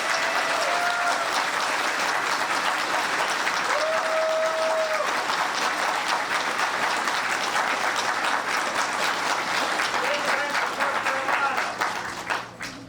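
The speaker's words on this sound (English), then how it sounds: "So please give yourselves a round of applause." Festival crowd at a cider festival's closing ceremony giving a long, steady, dense round of applause, loud and continuous with a few whoops and cheers over it, tapering off at the very end.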